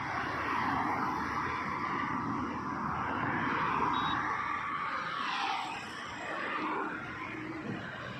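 A battery-powered electric scooter or bike passes on the road with a broad, steady whoosh of motion and road noise that swells and then eases as it goes by, with no engine note.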